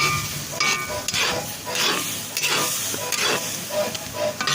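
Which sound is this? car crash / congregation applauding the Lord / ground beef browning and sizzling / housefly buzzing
ground beef browning and sizzling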